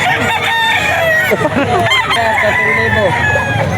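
A ten-month-old full stag rooster crows loudly and close at a pet market in Bocaue, a long drawn-out call with clucking and other fowl around it.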